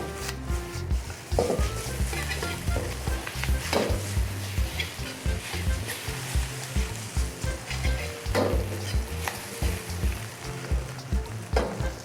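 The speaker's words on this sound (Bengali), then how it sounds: "আমরা কিছুক্ষণ ভেজে নিই" Noodles and white cabbage fry in a hot pan for crispy restaurant-style noodles, a continuous close sizzle broken by rhythmic bursts of stirring and tossing, fairly loud and without any voices.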